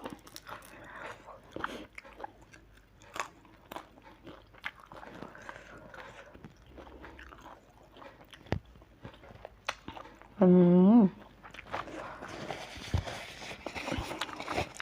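Crunchy fried mackerel head being chewed up close: quiet, irregular crisp crunches and bites over faint room noise, with a short vocal sound partway through.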